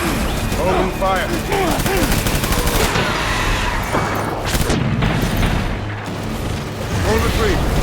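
Gunfire in the video game Death Stranding, a dense, loud fusillade of rapid shots and booming blasts close by, with voices shouting over the battle.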